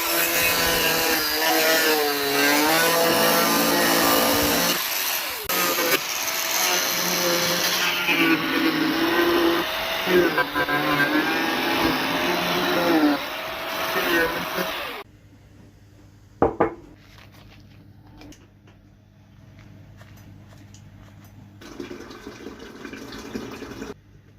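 A power tool trims the fibreglass front end of a classic Mini under restoration, a loud whining, wavering grind held for about fifteen seconds, then quieter workshop knocks and rustles.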